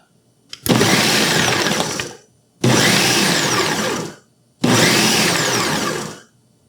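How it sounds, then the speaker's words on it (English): A Ninja 9-cup food processor on its Auto IQ chop program runs in three loud, roughly two-second bursts separated by short silences, each burst a harsh whirring roar with chunks rattling against the bowl. "Okay, we're going to do the Auto IQ chop."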